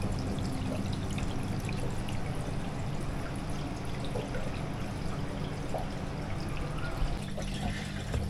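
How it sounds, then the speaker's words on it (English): Water bubbles and trickles steadily at the bottom of a jungle box terrarium with a running pump and fans, a continuous close wash of liquid noise with no speech. "the water bubbling away in the bottom"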